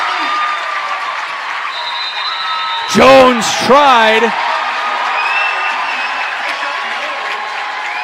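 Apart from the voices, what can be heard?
basketball fans cheering and applauding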